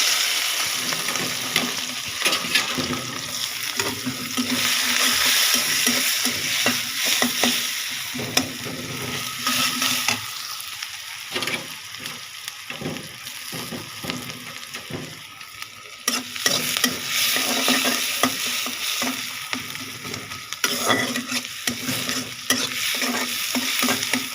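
Sliced onions fry in oil in a pan just used for frying fish, giving a continuous close sizzle broken by frequent scrape-and-stir strokes throughout.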